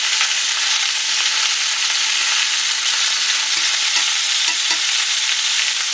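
A seasoned pork chop sizzles loudly in a frying pan, a dense, close-up hiss of hot fat that stays constant throughout, with a few faint knocks underneath.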